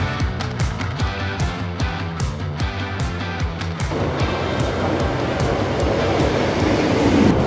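A diesel train rolling along the track in Cheshire with rhythmic clunking over rail joints, then a rising, rougher rumble as it picks up speed.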